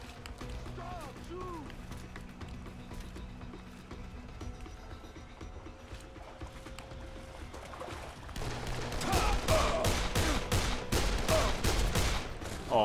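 Gunfire in the zombie video game Dead Island, a burst of rapid shots and loud impacts building in the second half over steady game noise, with someone talking and laughing earlier over quieter ambience.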